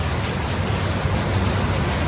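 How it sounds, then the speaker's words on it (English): A heavy downpour of rain at night, a dense, steady roar of falling water that holds evenly with no breaks. "Of course, now it's the downpour."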